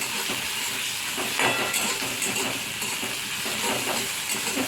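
Grated garlic sizzles and hisses steadily in a hot pan while it is stirred, for an egg tadka. The frying noise is close and even and carries on alone, with no talking.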